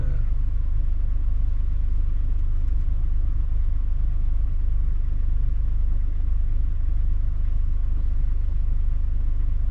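A Hyundai Porter 2 delivery truck loaded with cargo runs with a steady, low engine drone and rumble that holds evenly throughout, with no talk.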